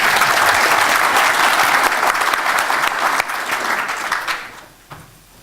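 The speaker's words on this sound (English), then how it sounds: "you are the first one to get a round of spontaneous applause" Spontaneous applause from a debate audience fills the room, many hands clapping steadily and loudly before fading quickly to near quiet at the end.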